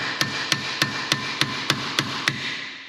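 A hammer strikes the brake disc of a Hyundai Tucson while the disc is turned by hand, eight sharp metallic taps in a steady, even rhythm over a continuous grinding rub, close and clear with no speech.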